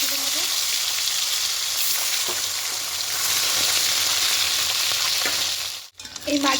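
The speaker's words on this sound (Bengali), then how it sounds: "বাকি মাছগুলো ঠিক ওভাবে দিয়ে লাল লাল করে ভেজে তুলে নেব।" Pieces of bata fish fry in hot oil in a kadai, giving a steady, close, loud sizzle that holds almost unbroken with a few soft stirring clicks, then briefly cuts out near the end.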